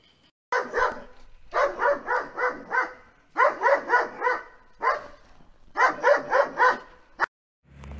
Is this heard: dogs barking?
yes